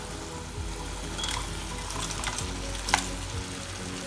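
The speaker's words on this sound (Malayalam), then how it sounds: "ഇനി നമുക്കിതിലേക്ക് ഫ്രൈ ചെയ്ത് വെച്ചിട്ടുള്ള ചിക്കൻ പീസ് ചേർക്കാം" Pieces of fried chicken go into a boiling spicy masala for chicken kondattam, giving a dense, steady sizzle and bubbling with a few soft stirring scrapes and one brief clink near the end.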